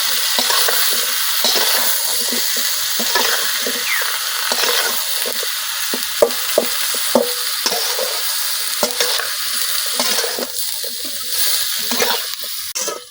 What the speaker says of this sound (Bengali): তো পেঁয়াজের সাথে আমি চিচিঙ্গাগুলো কিছুক্ষণ ভাজা নেন।